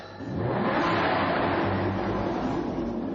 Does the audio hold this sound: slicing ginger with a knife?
no